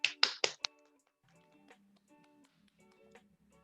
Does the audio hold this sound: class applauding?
yes